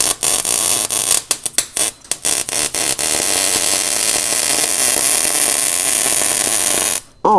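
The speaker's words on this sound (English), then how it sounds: "last weld here" Welding roll cage pieces, with a close, steady buzzing crackle that begins with a few short stuttering bursts, then runs unbroken for several seconds before a brief pause.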